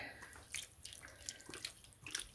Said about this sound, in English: Just adding hot water right now.